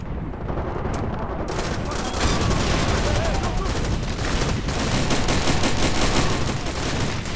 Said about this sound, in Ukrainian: Бо тут постріли.